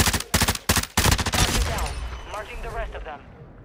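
Rocket launch and rapid gunfire in a Call of Duty match, opening with a string of loud close blasts, then a long roaring, fading whoosh trailing off over a few seconds.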